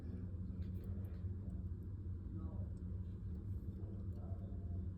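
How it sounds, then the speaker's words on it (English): Distant thunder rolls as a low, steady rumble lasting the full five seconds, faint and broad, with no distinct cracks. "And that's thunder, isn't it? Yeah, that's thunder."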